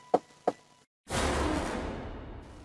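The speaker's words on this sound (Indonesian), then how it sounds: "Aku kemudian mendekati pintu itu dan mengetuknya." Two sharp knocks sound on a door, followed by a short silence and then a long whooshing swell that fades away.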